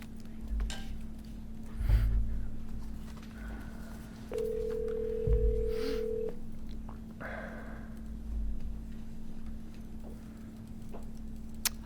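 A telephone call is placed during a board meeting. A steady line tone hums throughout, a single long ring tone sounds partway through, and faint clicks and room noise surround it with no talk.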